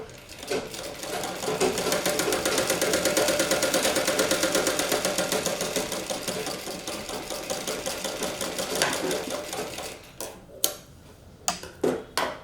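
A sewing machine runs steadily, stitching a blouse sleeve in a fast, even mechanical rhythm for about ten seconds, then breaks into short separate bursts as the fabric is adjusted.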